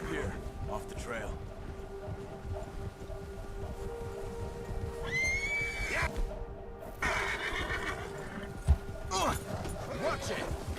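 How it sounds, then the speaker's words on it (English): Horse neighing and whinnying with faint hoof clops in the video game Red Dead Redemption, set on a trail during a spring storm, over a low windy background. "Get that horse in line, Arthur."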